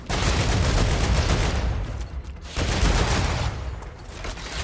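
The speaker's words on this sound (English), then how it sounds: "Okay, there's someone shooting at us as well." Dense bursts of gunfire in the StarRupture video game, loud rapid shots rattling almost continuously with a short lull midway, heard without talk.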